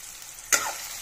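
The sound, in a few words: chopped onion, tomato and garlic frying in a pan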